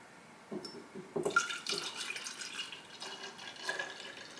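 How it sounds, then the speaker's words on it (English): Liquid coffee creamer pours and trickles into a mason jar, with soft splashes and drips, fairly close and quiet. "Now we are going to put it in a little mason jar that has a pour spout. So carefully pour this in"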